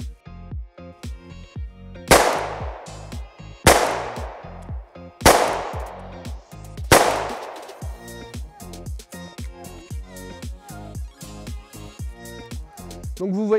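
A blank pistol fires four loud, sharp shots about one and a half seconds apart, each ringing out with a long echoing tail, while someone speaks French in between and after them.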